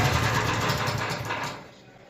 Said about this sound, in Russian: стук идет с двигателя